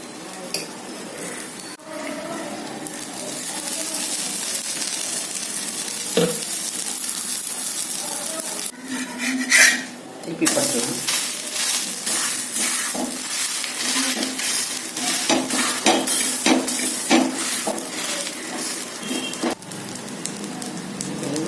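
Green gram and wheat rava adai dosa batter fries on a hot pan with a steady, close sizzle and crackle. A few brief scrapes and clinks from a utensil break through near the middle.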